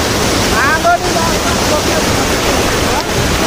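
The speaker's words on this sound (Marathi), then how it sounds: "नॅचरली धबधबा" Natural monsoon waterfall of very cold water roars in a steady broadband wash close by, with a brief faint whistle-like sound near the start.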